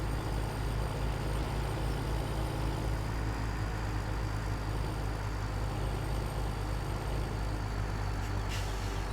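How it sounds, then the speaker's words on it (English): A Western Star semi truck towing a trailer in Farming Simulator 17, its engine giving a steady, continuous drone with no voices over it. "This Western Star is towing it very nicely"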